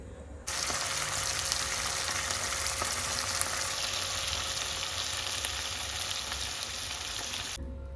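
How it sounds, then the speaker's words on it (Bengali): Small mourala fish frying in hot oil, a dense, even sizzle that bursts in abruptly and holds loud and steady for several seconds before cutting off, with no talking. "এখানে তেল গরম হচ্ছে এবার মাছটা ভেজে তাড়াতাড়ি করে এটা ঝাল বানিয়ে নেবো"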